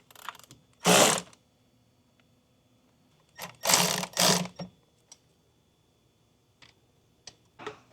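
Tightening down a bracket on a 2006 Acura RSX Type-S: several short, sharp bursts of ratchet clicking come close and loud, then fainter ticks follow with pauses between them, and no voices are heard.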